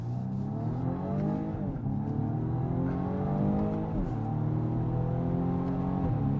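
A turbocharged BMW M235i Gran Coupe engine revs hard as it accelerates, pitch climbing and dropping back with each gear change, loud and close throughout.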